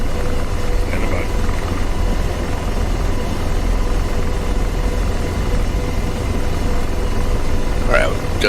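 An AH-64D Apache helicopter lifting off in DCS World, its engine and rotor a constant loud drone throughout, with brief radio voices over it.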